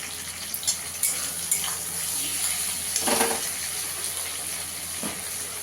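Chopped tomato dropped into a pan of onions frying in oil for a fish malai curry, a loud continuous sizzle with occasional stirring scrapes and spatula taps, close up.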